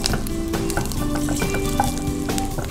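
Turmeric sizzles in hot oil during a tempering of green chillies and curry leaves for raw mango rasam, a steady close crackle with scattered pops and a few faint clinks throughout.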